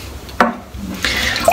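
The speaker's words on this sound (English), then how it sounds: "I don't know why I'm dipping my fingers in the water." Fingers dipping into a container of water, two short splashy dips with small drips between them, close and clear, with no talking.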